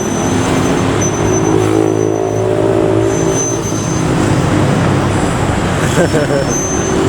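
A Jetbus-bodied city bus pulls away through traffic in a Kuala Lumpur street near Chow Kit market, its engine rumbling steadily amid passing cars and road noise, with voices in the background.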